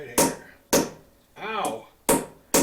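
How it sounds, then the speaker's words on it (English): A hammer strikes a metal washer during a turn signal install on a Yamaha DT250C motorcycle, four sharp close blows spaced unevenly, with a brief spoken sound between them. "we're going to work that over with a hammer"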